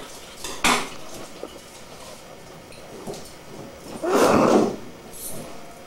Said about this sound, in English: You throw that in a pot like that